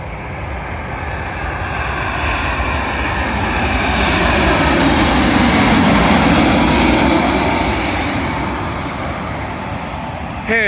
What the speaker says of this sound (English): Arriving in now is a United Boeing 787 Dreamliner from Denver to London Heathrow.